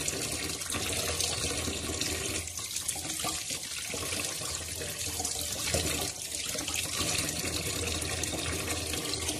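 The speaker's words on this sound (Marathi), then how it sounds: "ह्या पद्धतीने आपण छान असे बांगडा मच्छी स्वच्छ असे धुतलेले आहे" A kitchen tap runs in a steady, continuous splashing stream while bangda mackerel fish are rinsed under it, close and even throughout with no talking.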